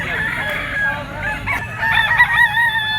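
Rooster crowing at a Wednesday market at the grotto where fowl are for sale, a drawn-out crow followed by another over a busy background murmur with clucking hens nearby, fairly close.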